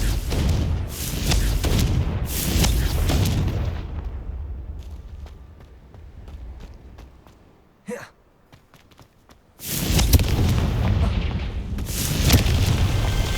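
Confringo fire spells explode in Hogwarts Legacy on Xbox Series X, with heavy booming blasts, a short sharp burst midway, then a loud roaring explosion that fills the rest.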